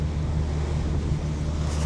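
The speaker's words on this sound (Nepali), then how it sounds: "हावा यस्तो चलिरहेको छ कि मान्छे उडाउने जस्तो है" Strong wind roars steadily across the deck of a cruise ship sailing toward Sweden near Helsingør, a loud continuous buffeting rush with low rumble and no speech.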